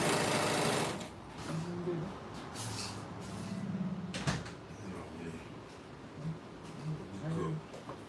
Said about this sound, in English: So I'm gonna serge the other side.